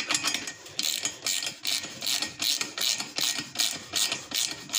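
A Craftsman ratchet wrench clicks in a steady run of about ten evenly spaced, crisp ratcheting bursts, close and clear with no talk, while a drive shaft adapter is fitted onto a Briggs Vanguard engine.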